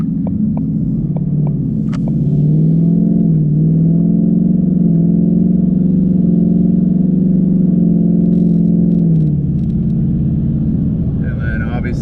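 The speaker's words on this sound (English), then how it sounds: "once it's our turn to go, you'll see how the RPMs go up" A Ford S550 Mustang GT V8 engine rumbles close and loud, its deep throb rising as it accelerates, holding, then dropping back near the end as it shifts.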